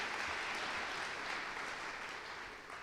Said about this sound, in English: If we could give them a round of applause for all they've done